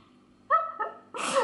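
A single sneeze indoors: a short voiced intake rising into a sharp, breathy burst that ends the clip, fairly close and moderately loud, with no speech.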